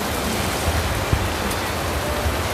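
Heavy storm rain pours in a dense, steady roar, loud and close, with no voices.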